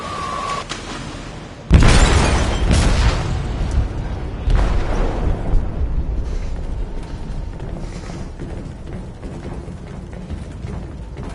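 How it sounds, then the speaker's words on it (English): Explosion in a ship's hold in Detroit, a sudden loud boom that breaks into rumbling and the rattle and clank of metal debris, followed by a second, smaller burst and a long, fading mechanical groan. "detonated an explosive in the hold. The ship is sinking, sir."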